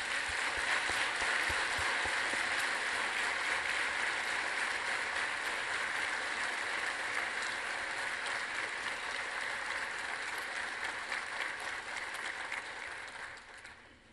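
A conference audience stands and applauds to welcome a guest at a Dalit Indian Chamber of Commerce event, a dense, sustained wash of clapping that fades out near the end.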